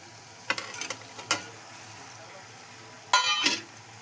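Boiled pasta tossed with masala in a kadhai on the gas stove: a spoon scrapes and clinks against the pan in a few separate strokes, with a faint sizzle underneath and no talking.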